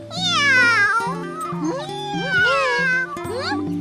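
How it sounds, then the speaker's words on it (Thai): A cartoon cat meows several times in quick succession, loud and close, with drawn-out, wavering, whiny calls and no speech over them. "เจ้าแมวตัวนี้"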